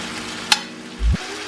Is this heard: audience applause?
no